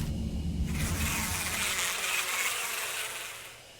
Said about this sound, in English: Is that supposed to be a bee noise?